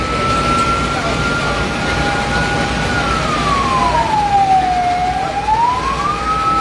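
A fire truck siren wails at a building fire on a city street in Butuan City, its tone holding steady, then sweeping down and back up over a constant roar of engine and crowd noise.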